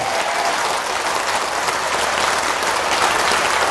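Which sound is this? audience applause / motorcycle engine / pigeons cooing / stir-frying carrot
audience applause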